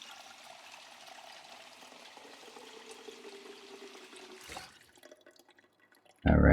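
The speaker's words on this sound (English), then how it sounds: "Fill up our water bottle." Water running from a tap into a bottle in the survival game Project Zomboid, a steady pouring and trickling rush that fades out before a sudden loud burst at the end.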